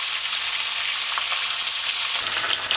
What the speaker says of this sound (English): you just put the fish in and allow that to fry on one side